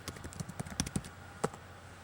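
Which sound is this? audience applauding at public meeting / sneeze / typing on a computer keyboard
typing on a computer keyboard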